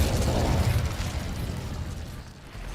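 A fire spell cast in the Hogwarts Legacy video game near an Acromantula cave, giving a loud whooshing, roaring burst that starts strong and gradually fades over a few seconds, with no voices.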